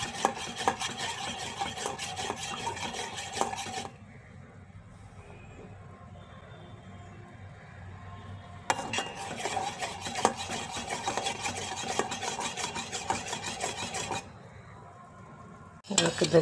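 Ragi flour being stirred in a pot for ragi sankati, a scraping, rubbing spoon against metal in bursts separated by quieter pauses, with faint background sounds.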